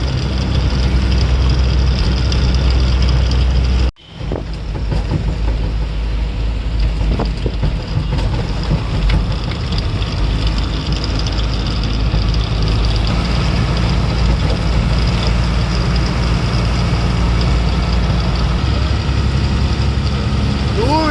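Engine of an underpowered pickup laboring up a hill road in the Telangana hills, a loud continuous low drone with a brief dropout early on; no talk.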